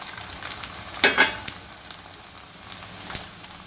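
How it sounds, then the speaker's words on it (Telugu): Snack pieces dropped into hot oil, a soft continuous frying hiss with a brief burst of bubbling sizzle near the start and a few small pops afterward. "ఆయిల్ వేడెక్కిన తర్వాత మనం ఇప్పుడు వీటిని వేసేసుకుందాము."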